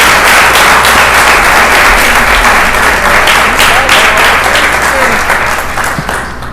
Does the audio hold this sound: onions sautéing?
no